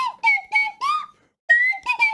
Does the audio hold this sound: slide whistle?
yes